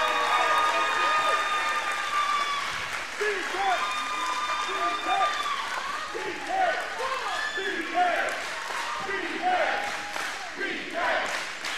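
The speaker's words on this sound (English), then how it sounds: "This crowd absolutely live for this main event in Bryan Keith" A wrestling crowd at Pasadena Convention Center's Campbell Hall claps and cheers steadily throughout a main-event championship match, with a commentator talking over the applause.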